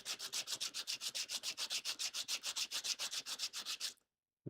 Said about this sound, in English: I'm going to play it safe and sand off some of the paint on the fastener locations.